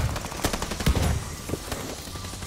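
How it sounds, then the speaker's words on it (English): Decoy grenade in Call of Duty: Vanguard sputtering fake gunfire, several quick bursts of automatic-sounding shots crackling close by in uneven rhythm over low background battle noise. "Decoy out."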